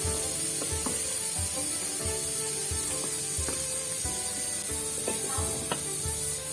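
Duck meat frying with freshly added raw onions gives a steady close hiss and spatter, punctuated by regular scraping knocks of stirring, with no talk over it.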